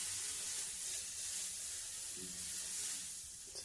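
Butter sizzling in a hot pan before pancake batter goes in, a steady soft hiss and crackle that stays faint and even throughout, with no talking.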